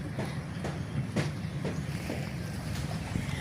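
A pump boat engine drones steadily nearby with rhythmic pulsing knocks, heard over water off a rocky shore.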